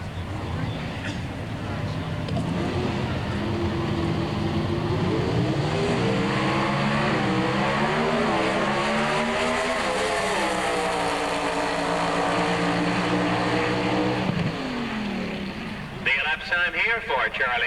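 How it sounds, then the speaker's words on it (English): A Pro Stock drag racing car, a Trans Am Pontiac at the 1986 NHRA Spring Nationals, roars loudly with a sustained, rising engine note and gear changes, heard under an announcer's commentary. "Charlie Garrett lining up now in the Trans Am Pontiac."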